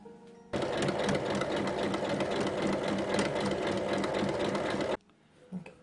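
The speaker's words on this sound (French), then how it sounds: "On épingle et on pique sur les trois côtés, mais là on ne laisse pas d'ouverture, donc on pique d'un bout à l'autre." Sewing machine stitching pinned fabric pieces for a backpack along three sides, a fast steady whirring run of stitches that starts abruptly, holds for several seconds, then stops, followed by faint handling.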